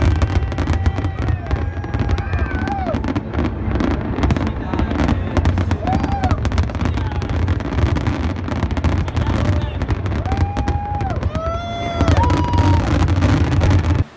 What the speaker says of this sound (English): And here's a clip of the fireworks.